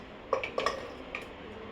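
Pointed gourd and potato pieces with ground spices going into a cooking pot, giving three or four quick clattering knocks in close succession, close and moderately loud, with no talking.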